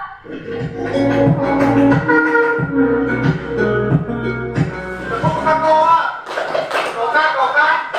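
Classroom of students performing the Tepuk Coca-Cola clapping chant, rhythmic group claps mixed with loud chanted voices in a lively, near, continuous burst lasting several seconds.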